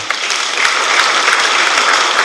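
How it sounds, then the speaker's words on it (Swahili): Dense, loud applause from a funeral crowd for the governor, a continuous wash of clapping held at an even level through the whole short stretch. "Makofi kwake tafadhali."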